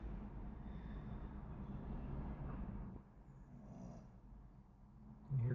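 A man sleeps and snores through a continuous low rumble, steady for the first half and then quieter, with a brief louder bump near the end.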